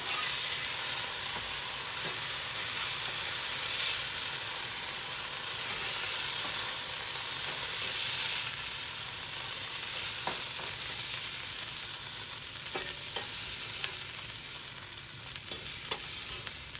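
Bay scallops sear in a hot pan with a steady, dense sizzle and hiss that runs unbroken throughout, with occasional faint clicks and scrapes of a utensil and no talk.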